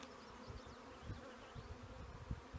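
Honey bees swarm around an open hive frame of pollen and nectar, a soft steady drone broken by brief close fly-bys of single bees, quiet and without speech.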